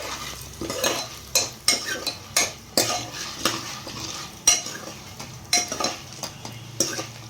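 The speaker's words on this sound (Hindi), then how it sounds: "इस तरीके से आपको कंटिन्यूसली इसको चलाते रहना है" Popcorn kernels stirred in a pot over a low gas flame, with a steady run of loud scraping strokes and rattling against the metal, roughly one every half second, over a faint sizzle, no talking.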